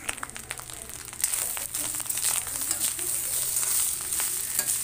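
Chopped vegetables frying in a pan for vegetable fried rice, a steady hissing sizzle with scattered crackles that grows a little louder after the first second and keeps going without any talk.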